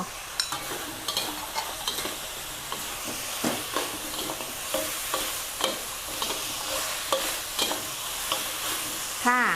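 Pork ribs are stir-fried with bird's eye chilies in a hot pan, a continuous sizzle broken by repeated scraping strokes of the spatula at an even rhythm, close and clear with no talking.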